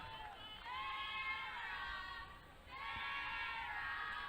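Crowd of Australian fans cheering and shouting after a goal at an under-19 women's lacrosse World Cup match, a broad sustained roar with whoops that dips briefly and swells again.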